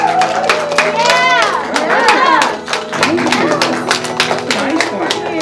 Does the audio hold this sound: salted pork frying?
no